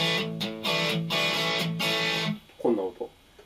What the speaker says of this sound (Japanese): 1559のクランチサウンドです。